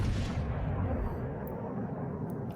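Republique battleship guns fire AP shells in World of Warships: Legends, opening with one loud, deep boom. A long low rumble trails off after it with no talk over it.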